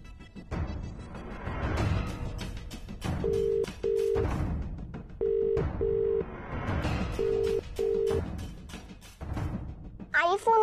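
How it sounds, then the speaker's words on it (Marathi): A telephone call is placed again in a Marathi TV serial scene, with a repeating ringback tone sounding in paired beeps under ongoing conversation, ending in a brief chirp of tones. "फोन लावा बरं परत एकदा."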